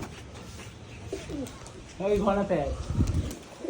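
Domestic pigeons coo in a loft, a few soft rolling calls that grow louder in the second half, with a voice speaking at moments alongside them.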